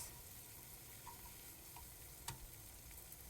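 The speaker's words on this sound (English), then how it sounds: "the butter starts to bubble, add garlic and onion and saute for a minute" Garlic, onion and shiitake mushrooms saute in bubbling butter, making a faint, even hiss with a few scattered small pops and one sharper tick.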